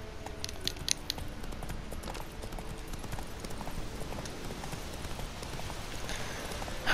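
Horse hooves clip-clopping in The Witcher 3: Wild Hunt, a fast steady run of close, crisp hoofbeats over a soft game ambience, with no one talking.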